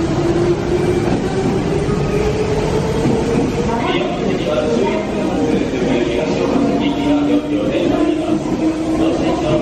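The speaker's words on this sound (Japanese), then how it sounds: "電車が発車いたしております。" A Meitetsu Nagoya Main Line train pulls out of Kanayama Station with a rising motor whine and rumbling wheels. Station announcements carry over the noise.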